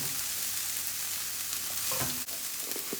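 Ground meat frying with homemade taco seasoning, a steady broadband sizzle throughout with a few stirring scrapes near the middle, close and fairly loud, no voices.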